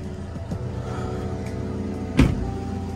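A 1989 Toyota Corolla engine idles while warming up, a low, uneven, misfiring rumble nearby, steady throughout except for one brief louder thump.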